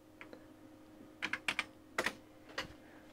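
Keys clack on a Commodore VIC-20 keyboard as a short command is typed, about eight crisp close strokes in uneven clusters over quiet background hum.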